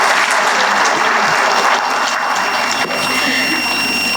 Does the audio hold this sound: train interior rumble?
no